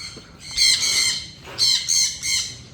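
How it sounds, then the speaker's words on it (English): Caged birds outside a house in the Philippines give loud, harsh squawks close by, one long call followed by a burst of three more, with no talk over them. "Look at all these birds they have in front of the house."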